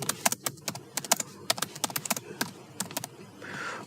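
Quick bursts of keystrokes on a computer keyboard, close and crisp, irregular clusters of clicks with brief pauses, no one speaking.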